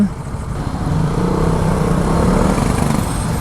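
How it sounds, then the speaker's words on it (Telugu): Dense highway traffic at a busy junction, a steady mass of car and motorbike engines rumbling and droning close by with no pauses, low and continuous throughout. "ఘోరం ట్రాఫిక్ ఉంది ఇక్కడ."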